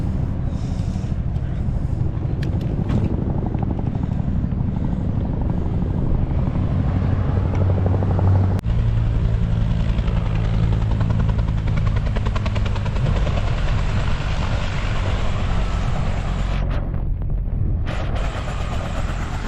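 A firefighting helicopter drones continuously close by while filling up with water, its rotor thumping steadily under heavy wind rumble that stays loud for the whole stretch.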